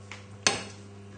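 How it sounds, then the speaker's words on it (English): A metal spoon clinks once against a plate while chicken casserole is served, a single sharp close knock in a quiet kitchen. "So I think just spoon it into the middle."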